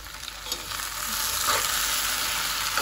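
Okra tempering in a hot pan gives a steady, close frying sizzle with faint stirring scrapes that grow slightly louder as it goes, with no voices.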